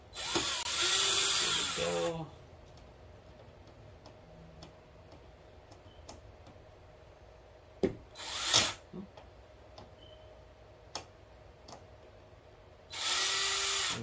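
A power drill removing screws from a TV whirs in two loud bursts at the start and end, with scattered clicks and ticks between and a brief spoken remark.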